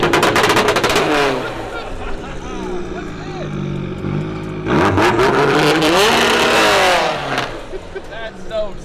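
A Subaru rally car engine on launch control revs hard and holds high rpm, dips to a lower drone mid-clip, then surges again with crackling pops, loud and close.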